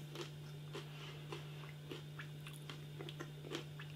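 Someone bites into crunchy Takis Fuego hot chili pepper and lime rolled tortilla chips, with sharp crunches coming roughly every half second, close but fairly quiet, over a steady low electrical hum and no talking.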